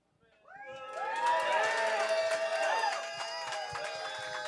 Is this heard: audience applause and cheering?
yes